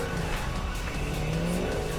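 A weaponized Javelin car from the Cyberpunk video game drives hard with a steady, loud engine drone and squealing tires, the tone rising and falling as it speeds along.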